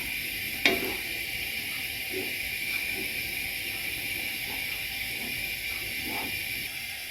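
Food, with cream added, sizzles in a pan with a constant hiss, opened by a sharp click and dotted with soft stirring taps.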